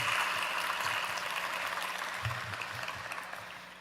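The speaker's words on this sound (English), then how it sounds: "Give yourselves a round of applause" Applause from graduates at a virtual college commencement ceremony, a dense wash of many hands clapping, loud at first and slowly fading toward the end.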